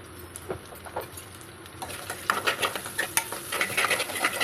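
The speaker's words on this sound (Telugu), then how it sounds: "దాంట్లో కొంచెం అల్లం పసుపు వేసి మిక్స్ చేసుకోండి" Ginger and turmeric are stirred into frying egg rice in a pan, starting with light sizzling and a few taps, then building into rhythmic, close scraping strokes of a utensil over steady frying.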